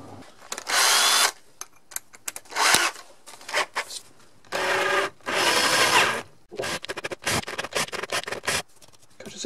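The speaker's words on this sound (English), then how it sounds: "Pre-drilling. Let's get a big drill bit on the job." A power drill with a large bit pre-drills a guitar body, grinding through wood in repeated loud, rough bursts, separated by short pauses and scraping.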